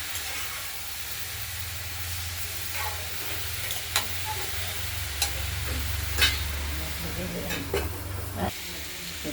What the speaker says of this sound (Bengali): আবার নেড়ে চেড়ে দেবো।